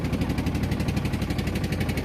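A motor boat engine on the river at Varanasi chugs in a fast, even rhythm, close and loud, with no voices over it.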